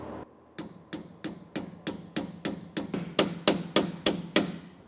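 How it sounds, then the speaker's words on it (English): A hammer strikes a metal punch to bend down a tailgate cable end bracket, giving about a dozen sharp, evenly spaced metallic taps up close that grow slightly louder toward the end. No one speaks. "I have this punch, and I'm gonna use it with a hammer. I'm just gonna tap away at this in order to push this end bracket down."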